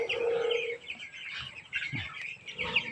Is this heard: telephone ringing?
no